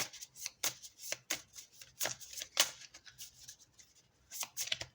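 Tarot cards are shuffled by hand, giving a series of quick, crisp riffling bursts close to the listener, irregular in rhythm with short gaps between them and no talking.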